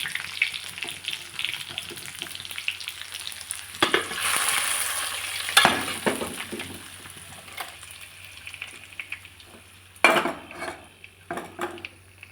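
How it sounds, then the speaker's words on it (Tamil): Hot curry leaf tempering poured into Kerala-style aviyal, a loud sizzle surging in, then quieter frying crackle, pan scrapes and clinks, with a second sharp sizzle burst near the end. "இப்போ கறிவேப்பிலை போட்டோம் இப்போ இதை தூக்கி அவியலில் கொட்டிடலாம்"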